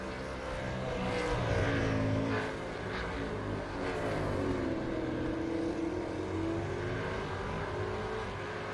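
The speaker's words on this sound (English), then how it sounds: "That was a hefty bit of engine noise coming out of Parker's car as he went through the corner" A steady, loud race car engine drone in the iRacing sim, Supercars at Road America, with rising and falling pitch as it revs through a corner, running continuously without speech.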